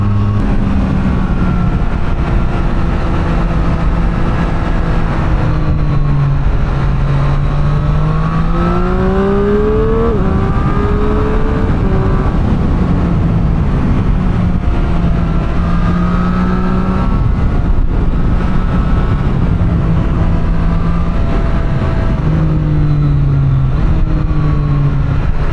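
A Triumph Street Triple 765 R roadster climbs a mountain pass, its engine loud and close, pitch rising and falling continuously through gear changes and throttle on corners, with no talking.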